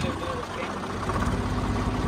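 A tractor engine runs with a steady low rumble in a maize field during fodder cutting with a trolley, and people talk over the engine.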